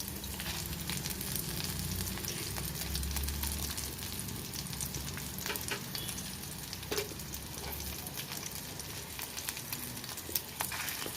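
Dried red chillies fry in hot tempering oil with a steady, close sizzle and crackle that holds throughout, punctuated by occasional small pops and stirring, and no talk.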